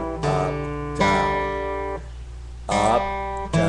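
Bluegrass lick picked on strings with alternating up and down strokes: a few bright plucked notes ringing clearly with sustained overtones, close and fairly quiet, with short pauses between phrases and no talking.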